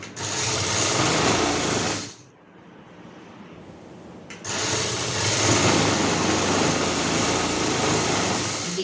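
An electric sewing machine stitches fabric for a blouse in a tailoring shop, a loud, fast, continuous buzzing run that stops for about two seconds and then resumes, with no talking.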